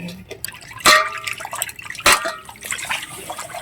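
Water splashing and trickling while hilsa fish are rinsed at home, with two sharper splashes over continual dripping and running water.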